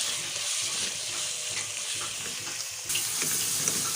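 Keema is stirred in a hot pan with chili powder and salt, giving a steady close sizzle and hiss with soft scraping strokes that brighten near the end.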